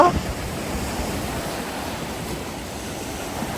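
Indian Ocean waves wash steadily along the shore beside a Sri Lankan city, a continuous broadband surf roar with wind noise and no distinct breaks.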